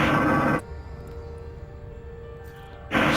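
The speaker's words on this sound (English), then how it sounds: "So that's what mesosiderite sounds like." Mesosiderite scanner signal from the Elite Dangerous video game: a burst of loud static at the start and end, with a quieter steady electronic hum and faint tones in between.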